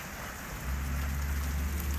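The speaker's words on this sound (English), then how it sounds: "look how much it's raining" Heavy rain pours down outside a roadside motel, a dense steady hiss that swells noticeably louder after the first half-second and keeps going without a break.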